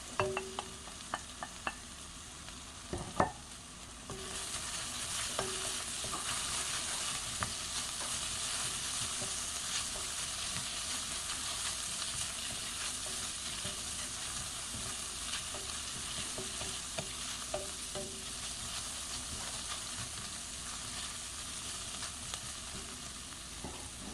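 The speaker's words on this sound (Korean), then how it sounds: "버섯과 오이를 넣고 볶아주세요." Mushrooms and cucumber stir-frying in a pan: a few utensil knocks at the start, then a strong, even sizzle that holds for the rest, with occasional light stirring clicks.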